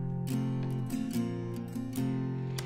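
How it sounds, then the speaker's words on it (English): A recorded acoustic guitar track plays back alone at moderate level, with strummed chords ringing steadily and bright pick attacks marking each change. "So using that, I recorded the first guitar."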